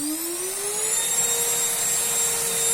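A Bosch vacuum cleaner dust extractor switches on, its motor whine rising in pitch and then settling into a steady loud roar with high harmonic tones, fed through a hose connected to a DeWalt tool.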